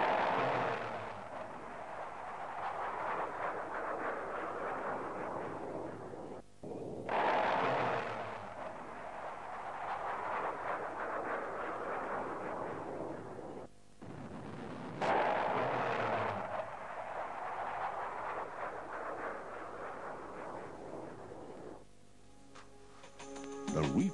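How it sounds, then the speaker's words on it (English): MiG-23 cannon rounds striking a ground target, heard as long rolling bursts of impacts and rumbling blasts in repeated waves, separated by brief gaps. "Clearly indicates the rounds hitting the target."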